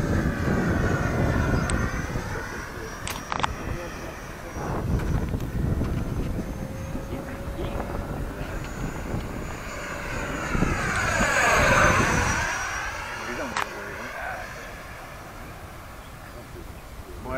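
An E-flite F-16 Thunderbird 70mm electric ducted fan model jet flying over a grass field. Its whining turbine-like roar rises and falls as it passes overhead several times, with people talking nearby throughout.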